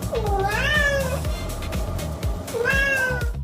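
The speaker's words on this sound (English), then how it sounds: "It's a cat." A cat meows twice, close and clear, each drawn-out cry rising then falling, with a short gap between them.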